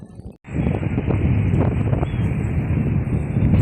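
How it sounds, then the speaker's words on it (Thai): Strong wind buffets the microphone at a riverside market beside a bridge on a cold, sunny day, a loud continuous roar and rumble that kicks in after a brief pause and carries on steadily, with no talking. "ลมแรงมาก"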